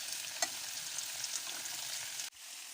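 Pumpkin slices fry in a pan with a steady, close hissing sizzle and occasional pops, ending in a brief sharp cut before the sizzle resumes.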